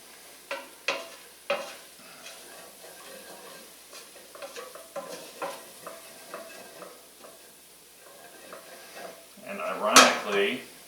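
Spoon stirring spicy white bean chili in a pot, intermittent scraping and knocking strokes against the pot, close by, ending in a louder clatter of utensils.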